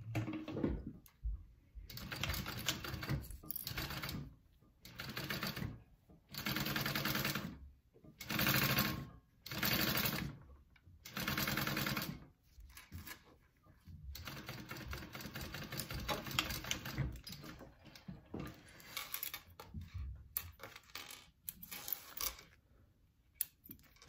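A sewing machine bastes handbag pieces together in short bursts of stitching, each a second or two long, separated by pauses, then runs a longer, quieter stretch near the end; no one talks.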